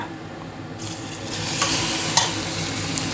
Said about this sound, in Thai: เนื้อ 400 กรัมลงไปผัดเลยนะจ๊ะ